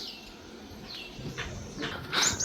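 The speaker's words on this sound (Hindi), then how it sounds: "बहुत ज़बरदस्त आवाज़ें आ रही हैं पक्षियों की" Birds calling outdoors among trees, high thin chirps and whistles that come and go over faint background noise, growing a little louder toward the end.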